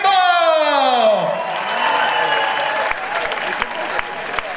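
A live crowd at a comics convention concert applauds and cheers after a falling vocal whoop, the clapping dense and steady with a few sharp louder claps standing out.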